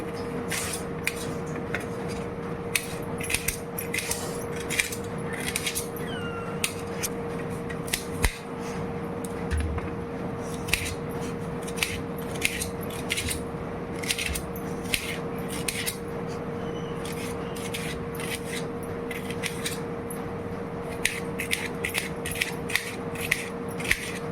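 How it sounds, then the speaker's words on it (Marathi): Onion being cut into thin long slices with a knife on a board, a steady run of crisp, close chopping strokes in quick rhythm over a faint constant hum. "कांदा काटून घेऊ आधी"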